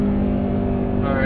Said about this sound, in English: Build that boost, and go.